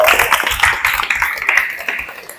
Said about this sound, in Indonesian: Oke, excellent. Tepuk tangan.